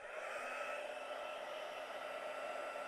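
Hair dryer blowing steadily over a watercolor painting of autumn trees, a constant airy whir with a faint tonal hum, quiet and unbroken for the whole stretch with no talk.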